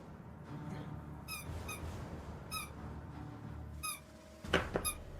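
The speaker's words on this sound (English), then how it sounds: "That's the sound of my shoes as I walk." Shoes squeaking on a floor while someone walks, several short sharp squeaks at irregular intervals over a low background murmur, with a brief louder cluster near the end.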